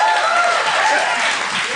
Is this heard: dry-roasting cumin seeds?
no